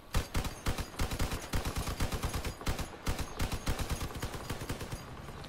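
Rapid machine-gun bursts from combat cars in Crossout, loud, close, sharp cracks firing in quick rhythmic volleys with only brief pauses, heard alone without talk.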